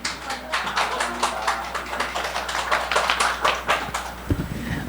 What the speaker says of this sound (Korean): 박수 한 번만 쳐주시면